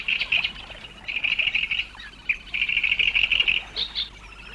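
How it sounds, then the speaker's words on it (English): A great reed warbler sings from a precarious reed perch at an old lake in Afyonkarahisar, Türkiye, giving loud, grating, chattering phrases in several bursts with short gaps between them, close by and without any talk. "A great reed warbler again, on a precarious song perch."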